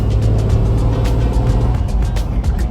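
Engine idling and rumbling steadily after a new airbox, snorkel and Holley EFI install, a deep low throb close by with faint ticking on top, no talk.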